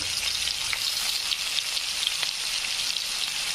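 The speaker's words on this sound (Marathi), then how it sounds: "नंतर आपल्याला टाकायचा आहे कांदा। कांद्याला फ्राय होऊ द्यायचं।" Chopped onion and mustard seeds fry in a pan with cumin, giving a dense, even sizzle close by. Small crackles and pops from the seeds keep sounding through it, with no voice over the top.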